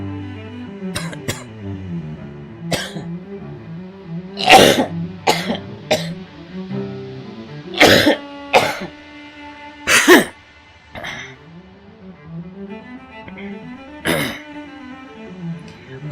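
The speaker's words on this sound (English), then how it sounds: "It's a dry cough." A person's dry cough and throat clearing, several sharp bursts scattered over steady background music, close and fairly loud.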